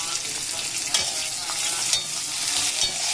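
Curry leaves, dried red chillies, black mustard seeds and cumin frying in hot oil, a loud close sizzle with sharp crackles and pops from the spices, and a few stirring scrapes in the pan.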